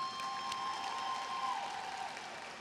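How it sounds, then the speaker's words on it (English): An audience applauds at a high school graduation ceremony, giving a steady wash of clapping from a large crowd in a hall. "And give them an applause."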